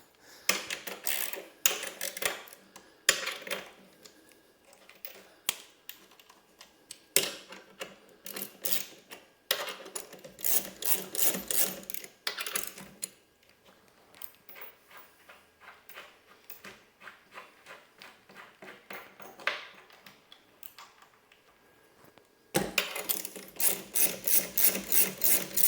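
Bolts are worked loose on a Stern Venom LE pinball machine during unboxing, with bursts of rapid ratcheting and rasping turns broken by pauses and scattered clicks, close and fairly quiet.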